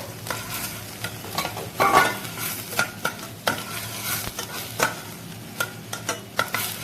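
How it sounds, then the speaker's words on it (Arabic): Chopped onion sizzles in a pan of butter with a little oil on a gas stove, stirred with repeated scraping strokes and soft clatters up close, no voice. "ودلوقتي بقى هنزل بايه؟ بالبصل. هقلب كده"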